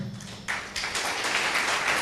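An audience bursts into applause after a short pause, a dense, sustained wash of many hands clapping that stays steady and fairly loud.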